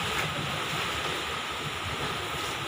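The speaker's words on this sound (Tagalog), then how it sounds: "Malakas yung hangin, malakas pa rin yung hangin guys." A steady, roaring rush of strong typhoon wind in Tarlac City buffets the microphone throughout, with no voices.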